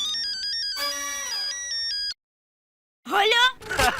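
Mobile phone ringtone plays a bright electronic melody for about two seconds, then cuts to silence before a voice speaks.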